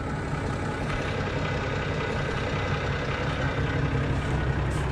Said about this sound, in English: Bogged the tractor well and truly.